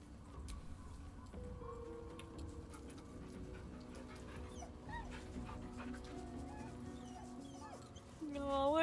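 A dog whimpering and panting in Baldur's Gate 3, soft and steady over sustained tonal game music, with a voice talking partway through and a louder swell at the end.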